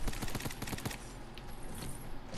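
Rapid bursts of gunfire ring out in a shooter video game, a quick string of loud shots over the first second, then fading into a lower rumble of distant firing and ambience.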